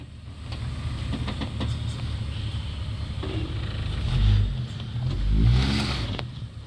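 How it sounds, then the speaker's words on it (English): A barn-find Ford AU Falcon runs its engine through a burnout, a steady loud roar that surges twice toward the end with deep low-end rumble and a faint squeal. "Why are you doing burnouts?"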